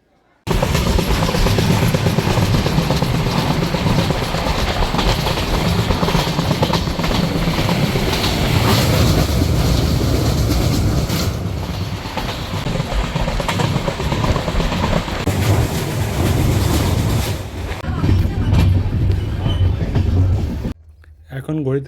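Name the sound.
Kanchankanya Express train running to Bagdogra station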